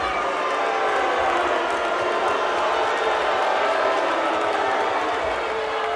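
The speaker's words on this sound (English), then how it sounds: "Crowd doesn't like that one at all." A football stadium crowd roars in a loud, sustained wall of noise after a late hit on the quarterback, with no breaks throughout.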